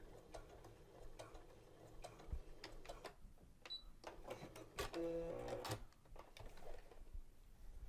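A domestic sewing machine with a hemmer foot runs in short bursts of mechanical whirring and ticking while folding and stitching a narrow hem on fabric, with a longer steady run in the middle and quiet pauses between.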